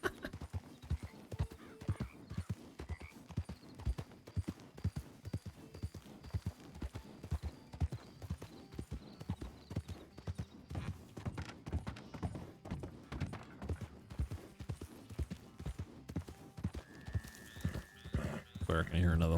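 Horse hooves clip-clopping at a steady galloping rhythm in the Red Dead Redemption 2 video game, with a brief whinny near the end, while someone talks over the hoofbeats throughout.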